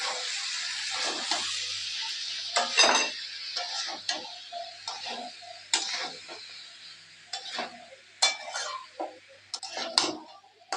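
Boiled chickpeas being stir-fried in a pan, with a quiet sizzle and repeated sharp scrapes and clacks of the spatula against the pan at an irregular pace, close and fairly soft.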